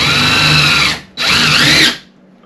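Power screwdriver driving a screw into a stud, two loud close bursts of motor whine about a second each, separated by a short pause, with the second rising in pitch as it spins down.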